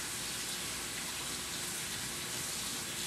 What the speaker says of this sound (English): Let me rinse this stuff off so it doesn't dry.